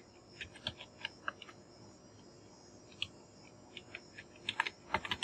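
Typing on a computer keyboard, with faint scattered key clicks coming in short irregular runs that cluster more densely toward the end.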